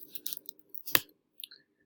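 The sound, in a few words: typing a password on a keyboard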